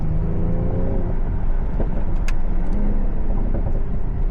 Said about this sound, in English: this car pops absolutely insane